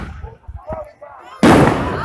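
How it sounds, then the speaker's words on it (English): A smoke bomb firework goes off close by during a police investigation outdoors, a sudden loud hissing burst that follows a few muffled pops and excited voices. "that's a smoke bomb."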